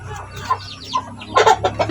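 A nervous chicken clucks close by in a short run of quick, rising cackles with a louder burst near the end.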